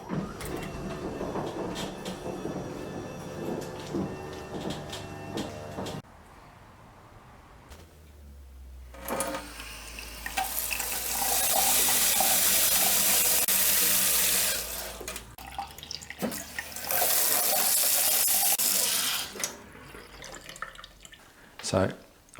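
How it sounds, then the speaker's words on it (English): A kitchen tap gushes loudly into a sink in two long bursts, briefly shut off between them, with quieter handling and clinks in the stretch before. "Now we're going to turn our water back on."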